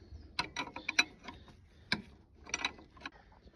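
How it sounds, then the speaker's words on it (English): Close metallic ratcheting clicks from a wrench loosening the pinch bolt on a belt tensioner of a Mercedes-Benz 814 truck with an OM366 engine, several quick bursts of ticks with short pauses, no talking. "loosen the pinch bolt"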